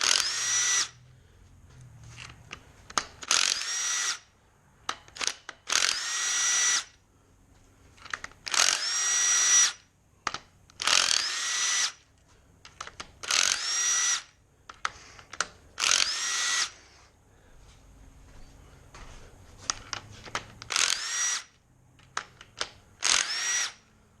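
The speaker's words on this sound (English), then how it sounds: "Time to remove the camshaft bearing caps." A power tool removes the half-inch camshaft bearing caps on a Jaguar MKII engine during a rebuild, running in repeated loud, close whirring bursts of about a second each, separated by short pauses, with no talk.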